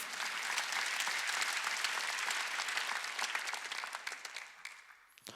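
A church congregation at a sermon breaks into sustained, dense applause that holds steady for several seconds, then thins and fades out near the end.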